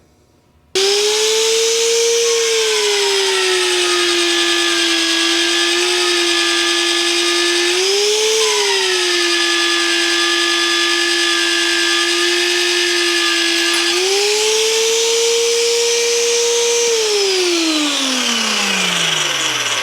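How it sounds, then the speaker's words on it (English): A powerful magnetic drill motor whines steadily at high speed while cutting a hole in a steel dump truck frame, its pitch dipping briefly under load and rising again, then winding down at the end. "It would take me forever to drill that by hand."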